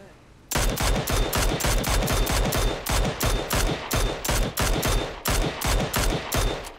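Automatic weapon fire in PUBG, a loud close burst of rapid, evenly spaced shots that keeps going for several seconds after a short quiet start.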